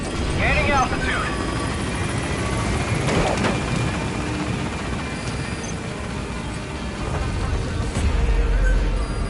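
Pequod helicopter in Metal Gear Solid V gaining altitude, its rotor drone loud and steady throughout, with radio voices talking over it.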